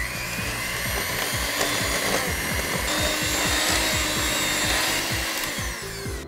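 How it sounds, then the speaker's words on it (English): An electric whisk beats icing sugar and butter for vanilla cupcake frosting. Its loud, close motor whirs continuously, with a gritty scraping texture throughout and no talking. "using electric whisk, you want to put your icing sugar and butter together and just very slowly, to start with, whisk it"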